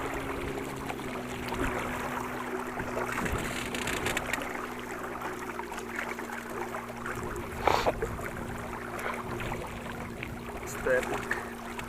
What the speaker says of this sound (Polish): mega mocny jest ten silnik